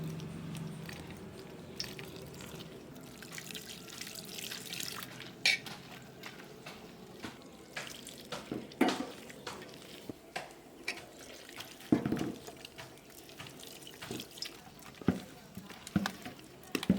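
Water is stirred into gram flour batter for potato bonda, soft sloshing and mixing with scattered clinks of a spoon or bowl, close and fairly quiet, with no one speaking.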